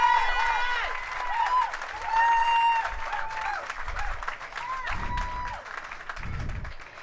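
A crowd applauds at a Hollywood Walk of Fame ceremony, steady clapping heard at moderate distance, mixed with a sustained musical tone and a few low thuds.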